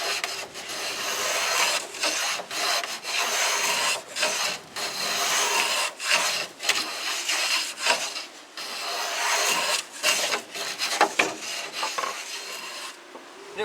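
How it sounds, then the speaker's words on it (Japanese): A hand plane's blade, angled slightly, shaves a wood surface in repeated rasping strokes of about a second each, separated by brief pauses, at moderate close range with no talking. "使い方はまっすぐ使うんじゃなくって、少し斜めにして削ってやると上手に削れるようになりました"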